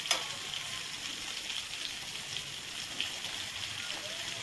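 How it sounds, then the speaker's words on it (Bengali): Prawns frying in a pan for Bengali prawn malai curry, giving a steady, close sizzle with faint crackles and occasional soft spatters throughout. "একটা সাইড আমার হয়ে গেছে, আমি উল্টে পাল্টে আর একটা সাইডও ভেজে নেব"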